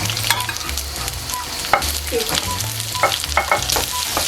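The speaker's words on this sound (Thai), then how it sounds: "ใส่น้ำมันนิดนึง ใส่กระเทียมนิดหน่อย ผัดให้หอม ใส่หอมใหญ่ลงไป" Garlic and onion are stir-fried in a little oil, with a steady loud sizzle under repeated scraping and clacking of a utensil against the pan, close up and without talk.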